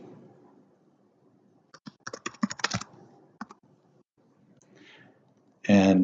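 A search being typed into Excel on a computer keyboard, with a short burst of close, crisp keystrokes in the middle, a few scattered taps, then a louder click near the end.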